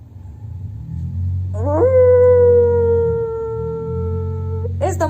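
A person on all fours imitates a dog with a long, rising wolf-like howl, a single sustained tone held for about three seconds over steady low background rumble, ending with a short breathy sound.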